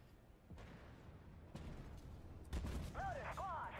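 Tank cannon fire from a Challenger 1 battle in Armored Warfare, several booming shots at irregular intervals amid rumbling battle noise, the loudest near the end, with game voice chatter mixed in.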